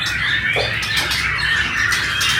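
Caged songbirds in a bird shop, including cendet and jalak suren, give sharp squawks and chirps over a steady hum of background chatter and room noise.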